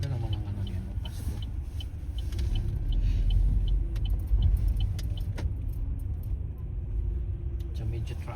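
Street traffic on a market street in an English town at Christmas time, with a steady rumble of cars close by, continuous and fairly loud throughout, with occasional light clinks and people talking faintly underneath.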